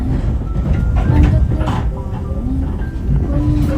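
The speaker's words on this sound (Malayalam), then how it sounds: "പഴയ ഒരു എഞ്ചിനാണ്" A loud, heavy rumble from an old-model train engine in Aviemore, Scotland, droning steadily with a few faint metallic squeals riding on top.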